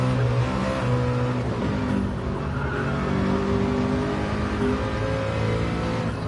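A race car engine in GT Sport roars steadily at Bathurst under throttle, a loud, continuous, close-up drone with shifting revs and no talk.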